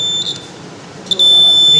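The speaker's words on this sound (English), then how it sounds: "So let's try for buzzer." A steady high-pitched electronic buzzer tone from a battery-powered buzzer in a school science lab circuit sounds continuously, loud and close, with brief clicks as it switches.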